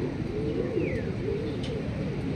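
Racing pigeons during a club training flight in Luisiana, Laguna, heard as soft cooing calls from nearby birds over a low, steady outdoor background.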